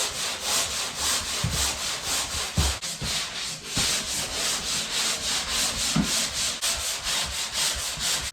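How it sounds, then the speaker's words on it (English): Ceiling plaster being sanded with a 150 grit sanding paddle makes a steady, rhythmic scratchy rasp of repeated strokes, close and loud, with a few knocks and no talking. "150 grit, designed specifically for these type of sanding paddles, I guess you'd call them."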